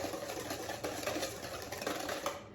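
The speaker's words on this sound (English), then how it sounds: "you just whisk it for about 2 minutes" A fajita marinade is whisked by hand in a bowl, producing a quick, steady rattling whisk sound that runs continuously and close by, with no talk.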